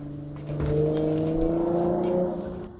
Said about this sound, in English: We got loud exhaust out there.